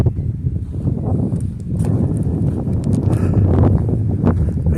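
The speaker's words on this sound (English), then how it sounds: "The wind is blowing. You can see the fluttering on that tent tarp." Wind gusts against a camp tent, its tarp flapping and rustling in a steady, fairly loud rush of low buffeting with scattered flutters throughout.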